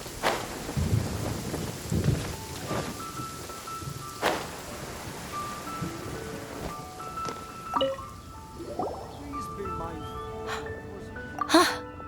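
Heavy rain downpour in the Genshin Impact video game, a steady hiss of rain with rumbling thunder and scattered sharp hits, overlaid by game music tones.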